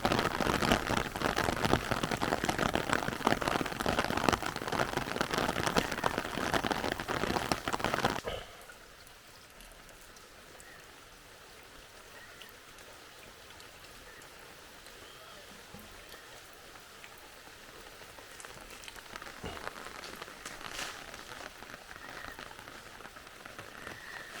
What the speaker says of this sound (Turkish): Harika bir sağanak yağmur var arkadaşlar